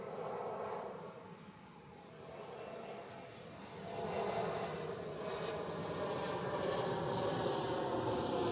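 An Austrian Airlines plane landing on runway 14 at Zurich Airport makes a distant, broad jet roar that dips and then swells steadily louder, with no talking.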